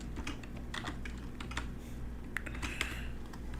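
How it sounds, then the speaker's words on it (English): Rapid, uneven key presses on a computer keyboard as a Windows XP product key is typed in. Close clicks run steadily throughout with no voices. "We are gonna type it right here."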